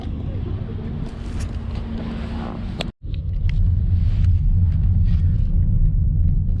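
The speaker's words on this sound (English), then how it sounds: "we're back at the car just now, so we're going to hit the road" A car drives along a city road in Los Angeles, heard from inside as a loud, steady low rumble that cuts out briefly and then returns, with faint speech under it.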